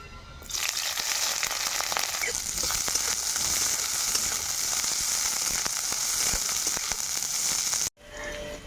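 Onion and green chili with cinnamon, cardamom and cloves fry in hot oil, a steady dense sizzle that runs almost unbroken for about eight seconds before cutting off abruptly near the end.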